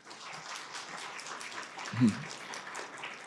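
Soft, steady applause from an audience at a Barco dealer tech day, a dense patter of clapping that runs the whole time at a fairly low level, with one brief louder thump partway through.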